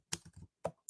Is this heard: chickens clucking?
no